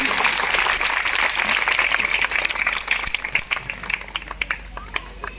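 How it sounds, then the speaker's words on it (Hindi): An audience at a rural women's Teej celebration applauds, a dense wash of clapping that thins out into scattered individual claps toward the end. "इन दोनों बहनों के लिए जोरदार तालियां बजा दीजिए"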